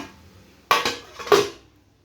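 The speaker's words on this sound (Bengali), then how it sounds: "আর 1 মিনিটের জন্য ঢেকে দেব।" A lid goes onto a cooking pot of potato mutton keema: two or three close metallic clanks with a short rattle as it settles, then quiet.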